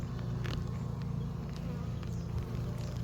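Honey bees buzz steadily and close throughout a hive inspection, a dense continuous drone with a few brief clicks and knocks of frames being handled.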